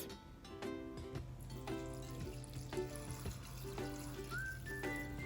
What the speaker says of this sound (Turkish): Börülcelerimizi bir kaba alıp üzerine soğuk su ekliyoruz.